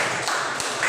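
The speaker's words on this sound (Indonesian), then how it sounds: "Tepuk tangan." A short, dense burst of clapping fills a school classroom as students applaud a group presentation, a brief wash of many hands at once.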